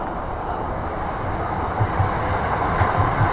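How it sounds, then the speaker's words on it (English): A train rumbles past nearby, steady low rolling noise with rhythmic clickety-clack of wheels over rail joints toward the end. "Oh, and there's the train."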